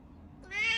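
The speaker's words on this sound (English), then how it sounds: "Cat makes this sound yep." A single cat gives one short, close meow that rises sharply at the end, heard alone.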